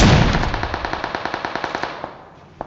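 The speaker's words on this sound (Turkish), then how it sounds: "Abi bizim adama sıkıyorlar." A rapid burst of automatic gunfire in the shooter game PUBG, with about fifteen evenly spaced loud shots fading toward the end and one final isolated shot, with no talking.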